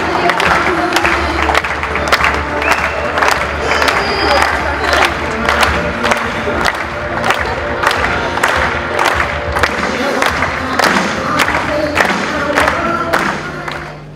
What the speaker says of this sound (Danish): Han vil have lidt flere klapsalver end ham her.